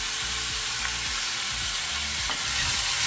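Onions with green chillies and turmeric sizzle steadily in a hot pan while a spoon stirs them in a few scraping strokes, close and continuous.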